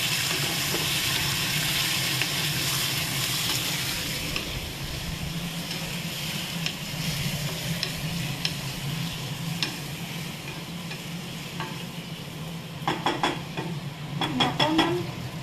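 Tomatoes sizzling in a pan while cooking kadai paneer, a steady, close frying hiss throughout, with a few stirring scrapes and clinks of utensils near the end.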